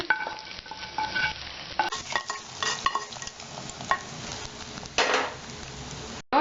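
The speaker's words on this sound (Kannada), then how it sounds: "ಈ ಒಗ್ಗರಣೆಯನ್ನು ನಾನು ಕುಕ್ಕರ್ಗೆ ಹಾಕ್ತಾ ಇದ್ದೀನಿ" Hot tempering poured into pongal in a pressure cooker hits the liquid with a burst of sizzling and crackling, mixed with clinks of a spoon against the metal pot.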